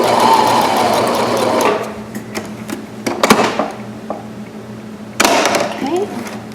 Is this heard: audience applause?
no